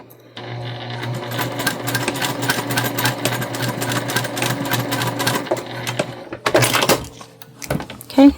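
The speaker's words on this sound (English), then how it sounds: "So just back stitching a few times, and then we will go ahead and do the same thing over here." A sewing machine back stitching while sewing small fabric totes runs in a steady, close, rapid mechanical stitching rhythm for several seconds, then stops, followed by a few brief clicks and handling sounds.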